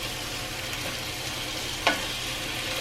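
Bacon sizzling in a non-stick pan: a steady, dense crackling hiss with a single metallic clink partway through as a utensil touches the pan.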